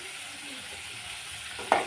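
Mutton curry fries and is stirred in a pan, giving a steady soft sizzle with a brief louder scrape of the spoon near the end.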